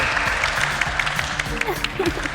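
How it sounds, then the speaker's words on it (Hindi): Audience members applaud a contestant in a dubbed action-film arena scene, with steady claps running under faint voices and tonal background sound. "चलिए सब लोग मिलकर मिस्टर अमन के लिए तालियां बजाइए"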